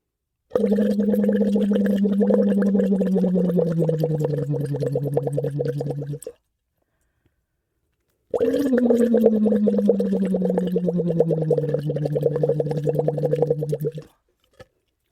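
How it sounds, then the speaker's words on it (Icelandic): Water bubbles as someone blows through a straw into a water bottle during a voice exercise, with a steady hum-like tone carried through the straw. There are two long, loud bursts of about six seconds each, separated by a short silence. "þú blæst kannski bara 2 svar í flöskuna"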